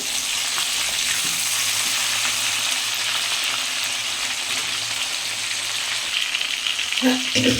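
Crab pieces fry steadily in hot oil, a dense continuous sizzle with faint stirring scrapes and a brief louder spatter near the end, no voices.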